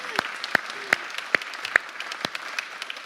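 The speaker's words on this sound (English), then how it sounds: "can we just please all clap for Alex?" A small congregation at a spring church meeting claps for a staff member, with sparse, separate claps spaced irregularly rather than dense applause, fairly close and fading after a few seconds.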